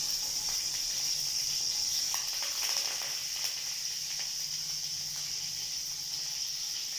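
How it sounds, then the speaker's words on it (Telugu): Mustard seeds, cumin and curry leaves fry in hot oil for a drumstick curry. A steady, soft hiss runs throughout, with faint scattered crackles and pops. "కొద్దిగా ఆవాలు, కొద్దిగా జీలకర్ర వేసి దీన్ని వేయించుకుందాం."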